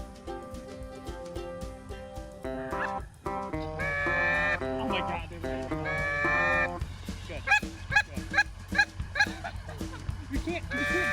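Geese honk overhead as flocks fly over a golf course during an early-season goose hunt, with repeated honks that grow denser and more rhythmic toward the end, mixed with other outdoor sound and some talk.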